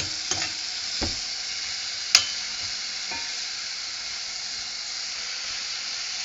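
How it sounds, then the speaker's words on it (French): Sausages for rougail saucisse fry in a pan with a constant close sizzle and hiss, broken by a few brief clicks and taps as they are stirred. "là on rajoute les saucisses dedans"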